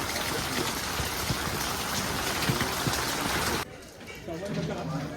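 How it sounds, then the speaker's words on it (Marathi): Dense, steady rain pours down for several seconds, then cuts off abruptly, leaving a quieter background with faint voices. "पाऊस भरपूर चालू आहे"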